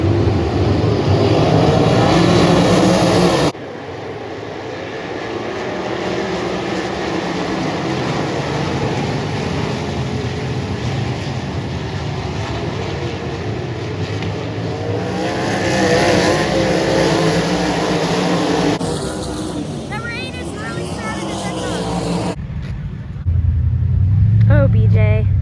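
Race cars, USAC East Coast and 410 sprint cars, circle the dirt oval at Williams Grove Speedway, with engines roaring loudly and rising and falling as they pass. Someone talks over the racing at times.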